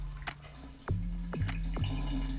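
Cold water gulped from a water bottle, with several distinct swallowing gulps and sloshing drips spaced through a short, close stretch with no talking.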